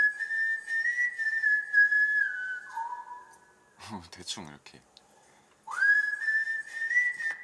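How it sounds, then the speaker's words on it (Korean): A person whistles a rough guide melody for a song in sustained, clear notes. The whistling breaks off for a brief spoken phrase, then resumes. "가이드 있는데 휘파람 들었거든."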